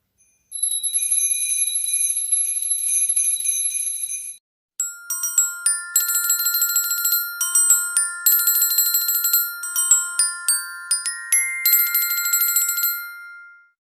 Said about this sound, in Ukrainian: Це маленькі дзвоники, маленькі квіточки музичної скриньки.